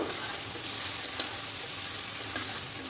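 Ginger-garlic paste and chopped tomato stirred in hot oil for prawn malai curry, a close steady sizzle broken by quick scraping strokes of a spoon against the pan.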